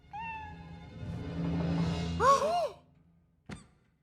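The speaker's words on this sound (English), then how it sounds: "We can handle a cat." A cartoon cat in the animated film Toy Story 4 gives a long, loud, wavering meow that rises into a strained cry, followed by a sharp click after a short pause.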